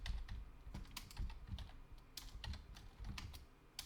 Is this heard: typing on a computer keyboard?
yes